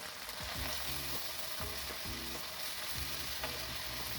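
Prawn pickle masala with turmeric frying in oil on a medium flame, a steady close sizzle with bursts of stirring scrapes and clinks repeating through the clip.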